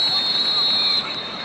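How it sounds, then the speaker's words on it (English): Restless crowd murmur filling a large stadium during a 1990 NCAA lacrosse quarterfinal between Syracuse and Brown, a steady distant babble of many voices with a high constant tone above it, dropping slightly in level partway through. "Now the crowd getting a little bit restless."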